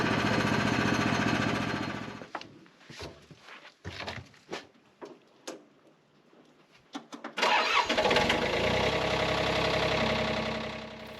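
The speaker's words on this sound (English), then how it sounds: "So this is my little 1990 Yanmar B22 little mini excavator." A 1990 Yanmar B22 mini excavator's diesel engine running loud, then stopping and being cranked with sputtering attempts before it starts again and settles into a steady close rumble.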